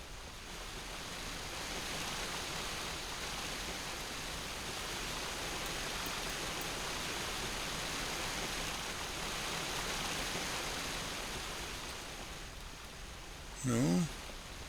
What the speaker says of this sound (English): How do we get to that waterfall over there?